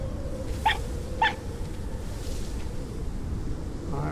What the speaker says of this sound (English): Where's that little dog hollering from, that fox?